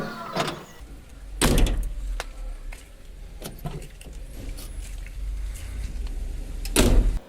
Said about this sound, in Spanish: Ya finalmente lo único que quedó fue probar la puerta y, como pueden ver, ya sin esfuerzo cierra completamente.